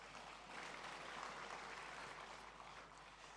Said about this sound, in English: If you want to clap for the youth, clap for us